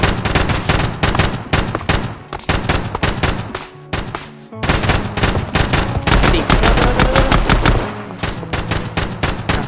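Rapid bursts of automatic gunfire in a Minecraft roleplay game, loud and close, firing in dense volleys with only brief pauses between them.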